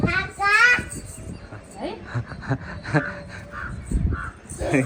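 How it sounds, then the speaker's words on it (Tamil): Crows caw repeatedly outdoors, several harsh calls scattered among a voice and other speech that run throughout the scene. "இருக்கிற காக்காலாம் வரப்போகுது இப்போ அவருக்கு"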